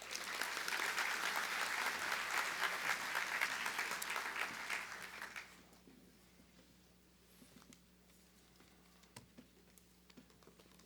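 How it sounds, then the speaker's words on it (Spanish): Strong applause from a conference audience fills the first half, dense and close, then fades out into quiet room tone with scattered faint clicks. "Un fuerte aplauso para él."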